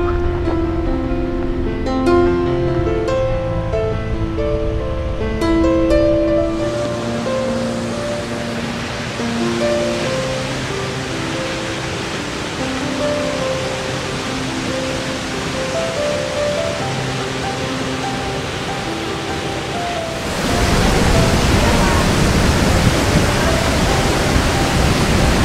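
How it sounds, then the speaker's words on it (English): Rushing water from the two-tiered waterfall at Crescent Falls near Nordegg roars steadily, with a tonal hum over the first few seconds and a louder, closer roar toward the end. "As you can see here, it's a two-tiered waterfall."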